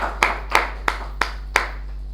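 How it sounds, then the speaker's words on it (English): Claps at a Toastmasters meeting: five sharp, evenly spaced hand claps about a third of a second apart, close and fairly loud over a steady low hum, sounding like one or two people rather than a full audience. "So please give her a big round of applause."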